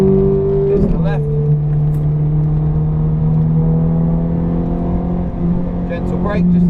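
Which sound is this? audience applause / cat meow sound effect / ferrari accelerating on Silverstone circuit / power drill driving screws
ferrari accelerating on Silverstone circuit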